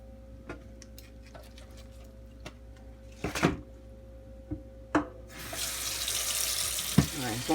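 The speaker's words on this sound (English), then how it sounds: "Alright, I'm going to fill the pot up." A kitchen tap runs into a cooking pot in the sink, starting with a few clunks and knocks of the pot before the water gushes in as a loud, steady rush through to the end.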